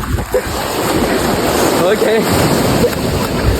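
Sea waves surge up the shore at a beach in Kollam, Kerala, making a loud, continuous rushing wash with wind buffeting the microphone, while a person speaks briefly over it.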